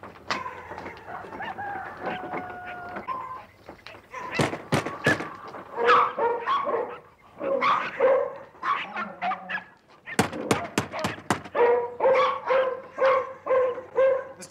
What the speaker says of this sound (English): Or I'll turn my dogs on you, all 43 of them!